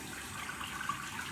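Water runs steadily from a tap to wet the glue side of a pre-glued hairpiece. The hiss is soft, continuous and close, with no voices.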